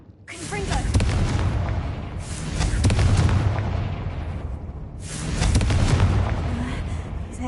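In Hogwarts Legacy, Confringo fire spells detonate in repeated heavy booms, three rolling blasts with long rumbling tails, loud and close over a low game background.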